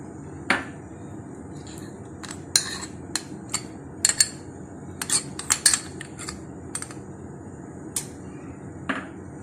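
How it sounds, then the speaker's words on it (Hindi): A metal spoon clinks and scrapes against a pan while rabri is stirred together with milk and condensed milk, giving sharp, irregular taps and clatters over a faint background hum. "इसको अब अच्छी तरह से मैं मिक्स कर लेती हूँ।"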